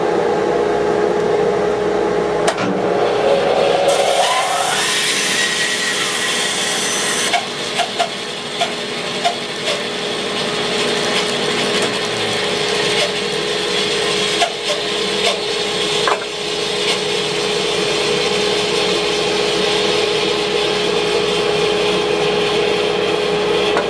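A table saw cuts poplar with a miter gauge, with dust collection running. A steady loud whine and rasp of the blade through wood carries on without a break, with a denser cutting burst in the early seconds.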